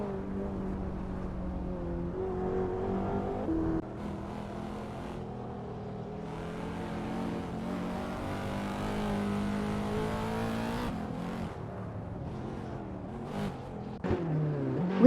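Supercars race around Road Atlanta in a video game, engine drones layered together at moderate volume with rising and falling revs as cars accelerate and pass, and a brief sharper burst near the end.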